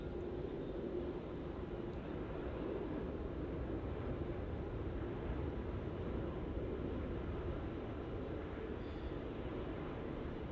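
A Malaysia Airlines Airbus A330neo jet, painted in its new livery, rumbles steadily at Melbourne Airport as a broad, constant roar of engine noise that stays even and fairly distant throughout, with no voices.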